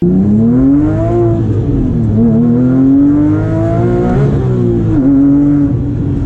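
A sports car engine revs loud and close, its pitch climbing and dropping in repeated sweeps as the throttle is blipped, with a steady, full-bodied roar throughout.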